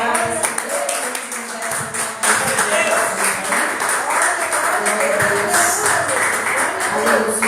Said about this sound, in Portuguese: dê palmas bem avivadas.